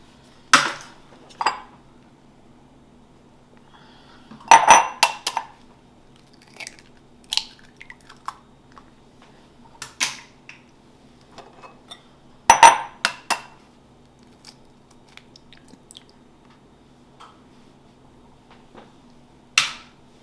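Eggs get cracked into a separate bowl while making banitsa, then whisked: sharp taps and clinks against the bowl rise from quiet scraping, with two clusters of louder knocks and scattered softer clicks.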